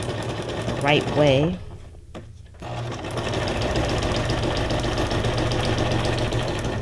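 A sewing machine runs in a steady, rapid mechanical whir, close and continuous, after a short spoken word at the start.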